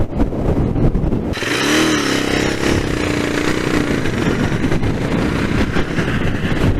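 A Royal Enfield Interceptor BS6 motorcycle gets a push on the throttle and its engine note climbs steadily while riding at speed, a loud continuous roar with rising pitch and no talk.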